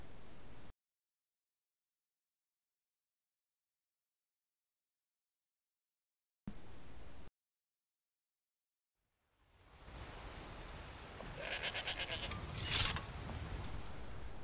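A goat in the video game Skyrim bleats once, loud and close, over a steady wash of game ambience after a stretch of near silence.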